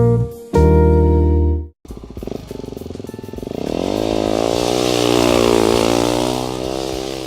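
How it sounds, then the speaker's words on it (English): Shinray 250 water-cooled enduro motorcycle fitted with supermoto tires, its engine loud and close: a brief rev, a sharp cut, then a rising, sustained rev that holds steady through the rest. "This is Shinray. It's a 250 water-cooled. It's an enduro bike."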